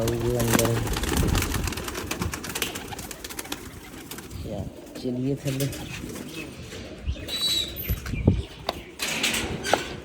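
Pigeons in a loft coo in repeated soft, throaty bursts nearby, with a person talking over them and some rustling movement.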